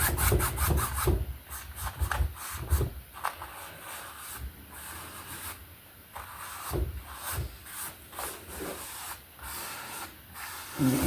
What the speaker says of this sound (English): you can probably tell by the sound of the brush on the canvas I'm really scrubbing on it